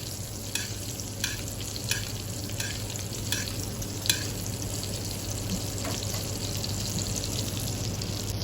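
A pork chop frying in hot butter in a pan, with steady loud sizzling throughout and a few soft scraping stirs at regular intervals, no talking.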